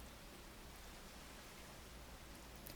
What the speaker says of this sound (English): I love that the sound of the rain is not overwhelming at all.